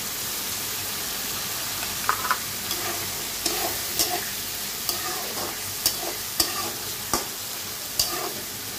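Chickpeas frying in a pan as chopped green chillies go in, with a steady close sizzle and irregular spatula scrapes and taps spaced a second or so apart; no voices.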